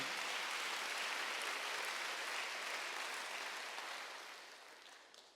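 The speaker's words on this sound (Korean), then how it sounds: "박수로 하세요." A church congregation at a Wednesday worship service applauds in a dense, sustained burst of clapping that fills the room and slowly fades away.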